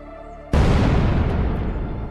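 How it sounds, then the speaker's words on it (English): Special firecrackers go off in an animated show with one sudden loud blast that cuts in after a quiet moment, then a long rumbling roar that fades slowly. "He ignites the special firecrackers and hurls them in a split second"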